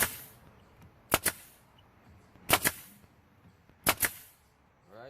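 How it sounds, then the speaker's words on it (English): A brad nailer drives brads into scrap lumber as three evenly spaced pairs of sharp, close snaps, each followed by quiet pauses. "I'm just going to go ahead and shoot a few brads into it on the side right here."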